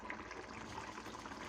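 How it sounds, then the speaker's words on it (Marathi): Jaggery is dropped into a boiling pot of raw mango vegetable curry with a soft, steady watery bubbling and trickling that holds at an even level throughout, without any talk over it. "आता मी टाकते गूळ।"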